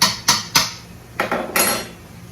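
A spoon knocking against a pot while stirring tamale ingredients, with a few sharp clanks and scraping strokes spaced irregularly over two seconds, close and fairly loud.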